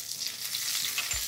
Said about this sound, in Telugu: సన్నగా తరిగి పెట్టుకున్న వెల్లుల్లి వేసి కాస్త వేగనివ్వాలి.